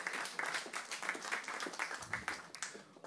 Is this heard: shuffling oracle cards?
no